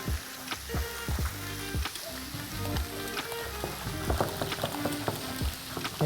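A spoon breaking up feta and stirring it through a yogurt dressing in a bowl, with a run of clinks, scrapes and soft wet squelches at an irregular pace, close by and moderately loud, with no talking.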